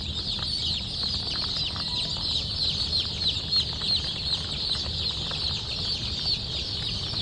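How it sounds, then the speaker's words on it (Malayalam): New Hampshire chickens, a foreign egg-and-meat breed, clucking and flapping their wings in a steady, busy flock din close by, with no voices present. "വിദേശ ഇനം കോഴികളാണ്."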